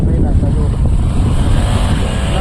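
A motorcycle arrives in a village, its engine a loud, continuous low rumble close by that fills the whole moment without pause.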